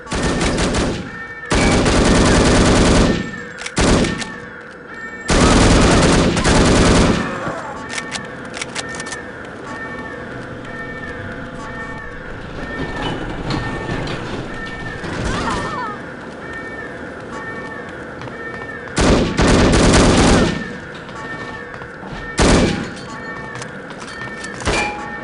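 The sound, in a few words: gunfire in No One Lives Forever video game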